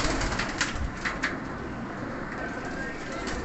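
Pigeons coo softly in a close, continuous murmur from birds kept for sale, a few wing flutters and faint background chatter mixed in.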